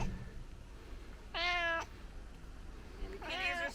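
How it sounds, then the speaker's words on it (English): Two clear cat meows, a short one at about a second and a half and a longer wavering one near the end, close and fairly loud over a faint room hum with no talking. "the kitties are sleeping"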